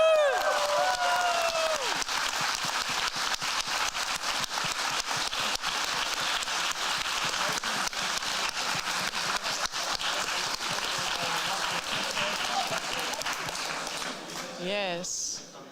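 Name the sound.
audience applause at closing ceremony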